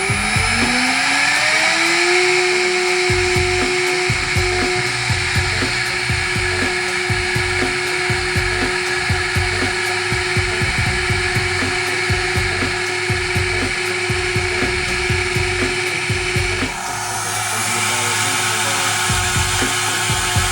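A CNC mill takes a first 0.003-inch pass cutting metal, its spindle ramping up to a steady loud whine with continuous broadband cutting noise and rhythmic chatter running throughout, the tone shifting slightly near the end.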